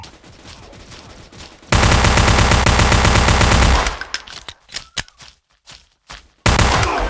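A loud sustained burst of automatic gunfire plays in the Blockade 3D video game, followed by scattered single shots and clicks, and then another heavy burst at the end.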